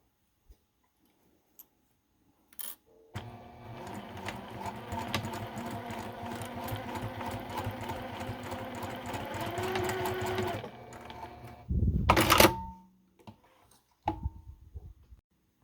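A sewing machine runs steadily for about eight seconds stitching a tiny coin purse, a close, even mechanical whir with rapid needle clatter, followed by a brief louder rustle and a few soft knocks.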